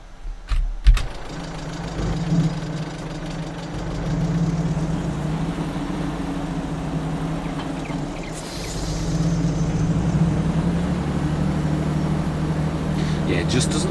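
A 150 horsepower road tractor truck engine in Farming Simulator 22 drones with a low, steady rumble that rises slightly as it labours, running under continuous talk.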